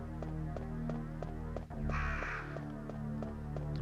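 Crows cawing in the 1996 Resident Evil video game, a harsh call bursting out once over a steady droning game soundtrack with repeating musical tones.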